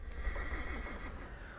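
Horse in The Thaumaturge video game whinnying as a rider climbs on, one short, fairly quiet neigh with a wavering pitch heard on its own.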